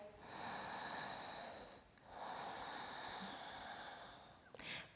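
Two long, close breaths of airy, hissing quality, a slow inhale and exhale repeated, then a brief rustle at the end; no talking.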